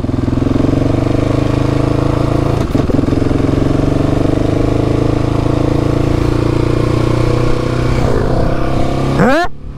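A KTM 690 SMC-R single-cylinder motorcycle being ridden, its engine droning loud and steady throughout with a brief dip near the third second and a sharp rev rising at the very end, no talking.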